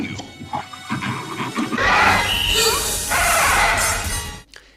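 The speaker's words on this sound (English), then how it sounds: "Even the eye screams at Helen like a giant mouth." A giant eye in the Twilight Zone: The Movie episode "It's a Good Life" lets out a loud, harsh shrieking scream, a dense bright wail rising after a brief lead-in and sustained for a few seconds before cutting off abruptly.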